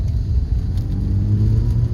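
A 1500 cc, 85 horsepower fuel-injected Fiat X1/9 mid-engine car pulls hard in second gear, a steady loud engine drone and rumble heard from inside the cabin with no talk.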